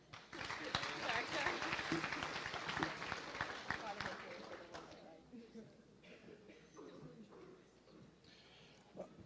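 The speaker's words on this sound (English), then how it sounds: "Have a round of applause for high individuals." An audience at a Kansas FFA state career development event awards ceremony applauds the high individual placers, a dense wash of clapping for about five seconds that thins to scattered claps and murmurs.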